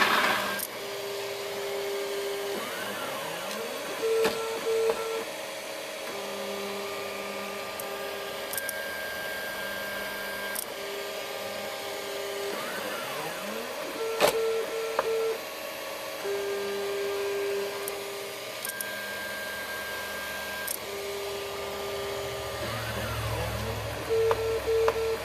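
A 3D printer runs its calibration routine, its stepper motors whining in sustained tones and rising sweeps, with clicks and shifting bed movements over a constant fan hum, close and fairly steady throughout.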